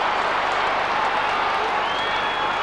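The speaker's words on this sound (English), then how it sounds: "Huge crowd in attendance here at Waverley." Large football crowd at Waverley Park during a 1997 AFL match between St Kilda and Collingwood, a steady, dense roar of many voices and scattered applause filling the stadium throughout.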